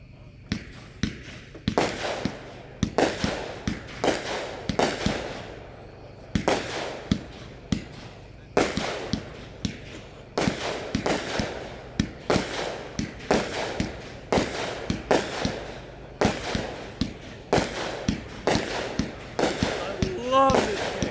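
A Red Rhino Battle Ready firework cake fires a long series of sharp booming shots at a steady, slightly uneven rhythm, loud and close, with a crowd of voices chattering underneath.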